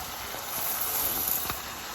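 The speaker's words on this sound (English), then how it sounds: "So now I'm just stir frying the rice, just to get the rice totally coated with all the sofrito." Rice being stir-fried in sofrito for Cuban black beans and rice, a steady soft sizzle and hiss from the pan with faint scraping of stirring, even and continuous.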